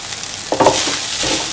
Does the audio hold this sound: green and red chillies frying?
yes